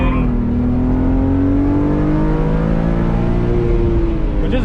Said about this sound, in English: So the rev limiter doesn't actually bounce like older cars do.